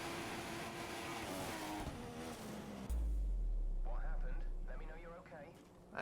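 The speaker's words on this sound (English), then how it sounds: "he's revving the guts out of fourth gear" A Formula One car engine in a racing video game, held at high revs in fourth gear, drones with a loud, steady pitch. Someone talks over the first half and then goes quiet.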